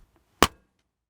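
A single balloon pops inside an anechoic chamber as a sharp, dry crack with almost no tail, framed by near silence.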